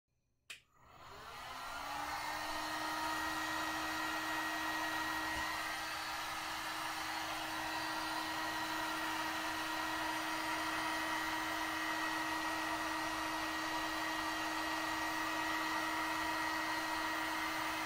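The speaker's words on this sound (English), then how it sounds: "after I'm done I'll use a heat gun to see if there is some cell activity" After a brief click, a heat gun blows steadily over an acrylic paint pour with a close, constant whooshing roar and a thin high whine that runs unbroken to the end.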